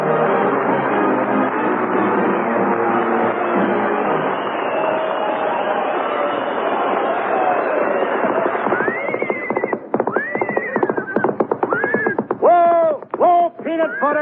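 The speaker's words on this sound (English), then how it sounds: "It's a horse, isn't it? Certainly it's a horse." Racehorse whinnying loudly and repeatedly, the long descending neighs rising into a string of sharp, high calls toward the end, heard close and alone over a busy background.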